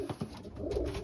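A racing pigeon coos close by in a brief, soft, throaty burst of low pulsing notes over faint background hum.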